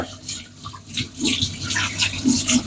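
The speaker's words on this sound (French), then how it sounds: "on va le rincer à l'eau fraîche" Pork fillet rinsed under fresh running water, giving a short, uneven splashing and trickling of water alone at close range.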